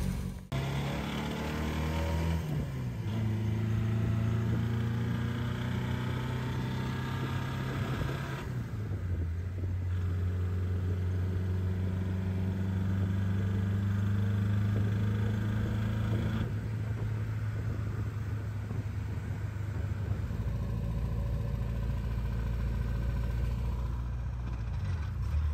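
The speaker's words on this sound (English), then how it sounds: "we are going for a test drive with the top down while it's snowing" A 1966 Triumph Spitfire's engine runs through gear changes on a snowy test drive with the top down, rising and dropping in pitch as it revs up through each gear, steady and fairly close.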